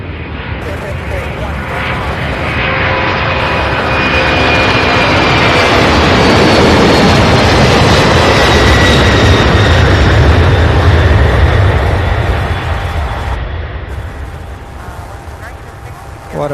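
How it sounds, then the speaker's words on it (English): An MD-11 jet airliner takes off at Louisville International Airport, a loud, broad engine roar that swells over several seconds and slowly fades, with a voice talking over it. "We have an MD-11, the last MD-11 takeoff of today's stream."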